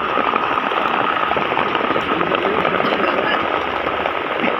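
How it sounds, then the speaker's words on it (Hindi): Heavy rain with hail pours down on an outdoor farmers' protest sit-in near Hisar, a dense, constant hiss of drops battering surfaces at a steady, loud level with no pauses. "भयंकर तूफान ओले"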